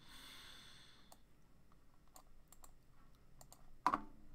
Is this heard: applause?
no